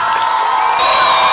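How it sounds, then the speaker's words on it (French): Dense, continuous crowd cheering and whooping with children's voices mixed in, loud and close, greeting visiting missionaries at a Christian holiday camp gathering. "C'est avec ces pluies d'acclamations que les agneaux ont salué la présence du couple Meunier et sa délégation"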